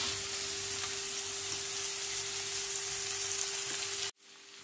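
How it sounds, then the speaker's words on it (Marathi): Onion, ginger and garlic frying in a pan for aloo bhendi, a steady close hiss of hot oil with a faint constant hum, cutting off abruptly near the end. "छान भाजला गेलाय, कांदा भाजा घातलाय, आलं लसूण झालंय।"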